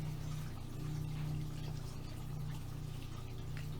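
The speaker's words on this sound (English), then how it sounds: "I'm spraying it with water and kind of flattening the color a little" Water sprayed onto a wet painting during a soak-and-stain technique, a steady continuous hiss with no breaks, close and moderately quiet, alone without talk.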